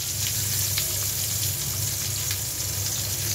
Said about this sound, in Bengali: আর এখানে হচ্ছে বেগুন ভাজা।